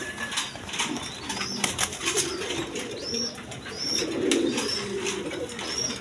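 Pigeons offered for sale as a running breeding pair coo low and repeatedly from close by, with scattered wing flaps, rustling and higher chirps in a busy, noisy setting.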